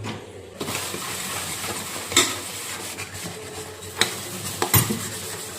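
Dishes and pots clatter and scrape in a sink, with a few sharper clinks standing out against a steady wash of running water.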